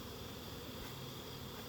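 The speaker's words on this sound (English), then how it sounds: "those bees were really aggressive" Honey bees buzz around their hives in a steady, faint, continuous hum with no voices.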